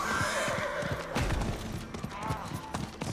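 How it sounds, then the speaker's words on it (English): A horse in the video game Diablo IV whinnies, then hooves clop in quick rhythm, up close and loud amid busy game effects. "We're going to just run out here, run out the door, hop on our horse"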